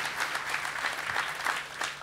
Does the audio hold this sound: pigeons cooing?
no